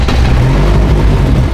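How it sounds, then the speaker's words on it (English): Engine of a BAC Mono race car running close by, a loud, steady low rumble with a rough, throbbing texture throughout. "So start the car like you would start a normal car. And press and hold till the engine starts."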